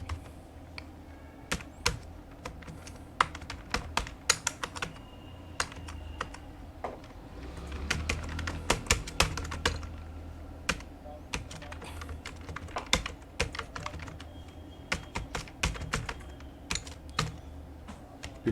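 A company address is typed into an Excel spreadsheet on a computer keyboard: quiet, irregular clicking keystrokes in quick bursts with short pauses and occasional heavier key presses, close and alone without talk.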